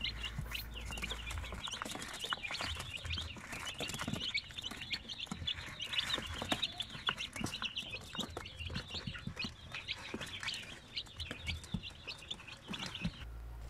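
Basilan and Zampen native chicks, pure Sampin chicks among them, cluck and peep steadily in a fenced ranging area, a busy layer of small calls continuing from start to end with no talk.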